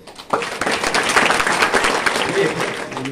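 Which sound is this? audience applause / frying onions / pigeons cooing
audience applause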